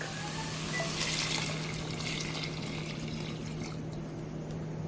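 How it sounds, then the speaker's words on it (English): Vegetable stock pours into a pot, a soft continuous watery rush with a faint hum underneath, quiet and even throughout. "We're going to add in our vegetable stock."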